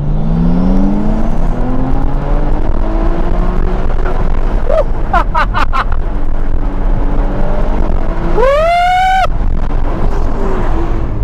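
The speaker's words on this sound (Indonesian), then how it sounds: "Dan selain suara mesinnya, kita juga bisa dengar suara turbonya." A Ferrari 296 GTS with its turbocharged V6 drives with a continuous, loud engine drone that shifts slowly in pitch. A short, sharp rising whine near the end sits above the engine, and a few brief clicks come just before it.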